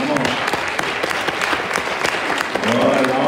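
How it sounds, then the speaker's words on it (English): A church congregation on Christmas Day applauds the children who performed a Christmas drama, sustained, dense clapping from a full room that carries on steadily, with a voice rising over it near the end. "Give them one more clap"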